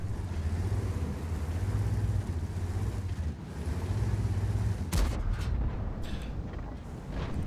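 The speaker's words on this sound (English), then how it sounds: "T-54 shooting at me." A T-54 tank in a tank video game rumbles with a heavy, droning engine, then a single sharp, loud cannon blast cracks out near the end and rings off into the low rumble.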